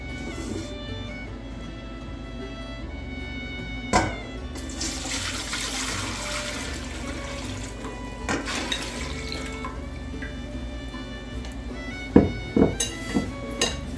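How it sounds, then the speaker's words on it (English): Strained sweet gherkin pickle syrup pours into a pot for water bath canning: a steady liquid splash that swells into a fuller rush midway, then gives way to a few clinks of cookware near the end, with no talking. "So we are going to strain off the syrup from this morning, and we are going to pour it into our pot."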